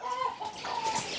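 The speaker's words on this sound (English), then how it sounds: "You can see, we already even have chicken here." Chickens cluck inside a brooder house, several overlapping calls and chirps close by over a low ambient murmur.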